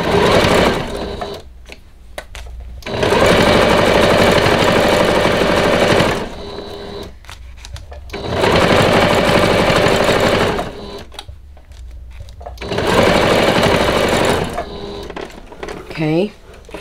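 A sewing machine bastes a hanging towel in three long bursts of steady, loud, close whirring, with short pauses between runs.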